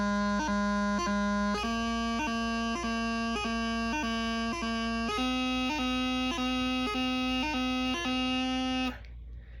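A practice chanter plays the first three bars of a beginner lesson tune, with steady reedy melody notes broken by quick grace notes and triplet ornaments. It runs continuously at close range and stops sharply near the end.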